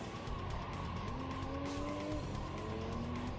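Engine of a small Peugeot hatchback in a racing video game, a steady revving drone with rising and falling tones as it shifts, tires squealing intermittently underneath, continuous and fairly close throughout.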